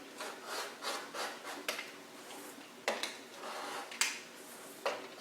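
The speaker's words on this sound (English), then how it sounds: "I'm just trimming off threads here to get our square" Scissors trim loose threads from the edges of a quilt block, giving soft rubbing cuts with several sharper snips, close by and fairly quiet, with no talking.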